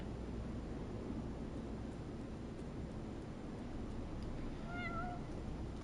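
A cat meows in Final Fantasy 14, one short rising mew near the end over a steady low hum of game ambience, with no talking.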